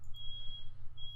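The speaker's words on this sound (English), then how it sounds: "that is the fire alarm responding to dust." A smoke alarm, set off by dust burning off a running heater, gives a steady high electronic tone that cuts out briefly and then resumes, heard alone over a low hum.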